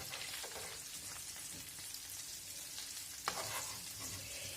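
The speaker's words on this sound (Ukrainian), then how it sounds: "А тут я піджарую цибульку до гречки." Chopped onion sizzles steadily in hot rabbit fat in a frying pan for buckwheat porridge, a dense, even crackle with occasional scraping stirs, close by and with no talk.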